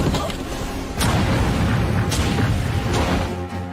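Anti-aircraft fire in an anime, a run of booming bursts over a dense rumbling roar.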